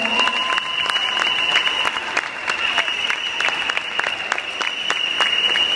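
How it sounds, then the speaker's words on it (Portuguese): Dense, continuous applause from an audience at a carnival coronation, the clapping steady and fairly loud throughout, with a faint tone sounding over it. "Uma salva de palmas."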